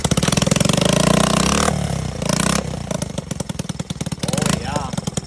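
A Honda Z50 50cc four-stroke motorcycle is kickstarted and runs with a loud, steady, close engine chatter and brief revving. A person speaks over it.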